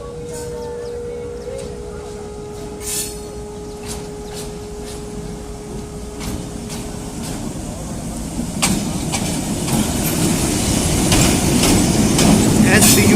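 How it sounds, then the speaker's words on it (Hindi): The Hazara Express approaches Jand Junction in a rising rumble of rail noise that grows louder and nearer, with a long steady horn tone early on and voices faintly under it. "अब हज़ारा एक्सप्रेस अप्रोच कर रही है जंड जंक्शन पर।"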